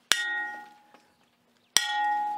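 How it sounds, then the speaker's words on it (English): A bronze boat propeller is struck twice, each hit giving a sharp metallic clang that rings on like a bell with a clear sustained tone. The strikes come about a second and a half apart, close and alone. "Hear that ring? Sounds like a bell."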